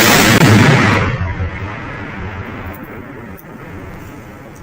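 An explosive charge blasts a beaver dam: one loud, close boom at the start that rolls off into a long, fading rumble of debris and echo.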